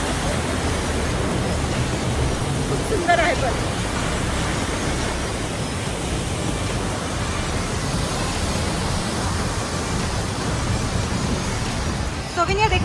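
A forceful waterfall in Bergen, Norway rushes with a constant, loud broadband roar, while a person speaks briefly over the steady noise.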